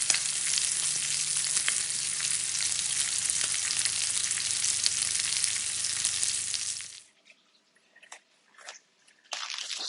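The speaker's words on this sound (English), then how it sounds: "So the bacon is going" Bacon sizzling on a PK 360 grill, a steady loud crackling hiss for about seven seconds that cuts off abruptly, followed by a few faint scattered knocks and pops.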